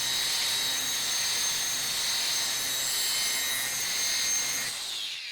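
A DeWalt 60V Flexvolt angle grinder grinds with a loud, steady high-pitched whine that holds nearly unbroken before easing off at the very end.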